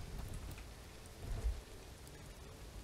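Steady rain falling in the medieval survival game Bellwright, a soft broadband hiss with low rumbling and a brief louder swell midway, no voices.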